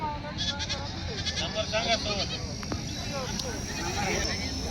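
Local country goats bleat repeatedly at a goat market in Vasmat, Hingoli district, amid a busy, crowded outdoor din, with people talking throughout and several animals calling over one another.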